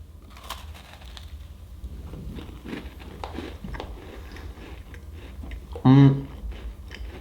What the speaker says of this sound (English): I regret taking that aggressive bite because it completely fell apart.